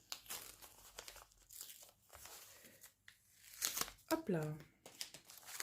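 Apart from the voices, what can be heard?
envelope being torn open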